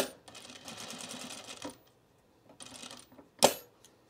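A sewing machine stitches a D-ring onto a baby bag in two short whirring runs separated by a pause, close and fairly quiet, followed by a sharp metallic clink.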